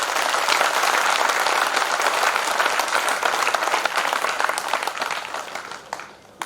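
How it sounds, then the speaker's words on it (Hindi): An audience at a Hindi poetry recital applauds, a dense, loud wash of clapping from a large crowd that holds steady for several seconds and then thins out near the end. "जोरदार ताली बजा दो सब लोग आगे से पीछे तक।"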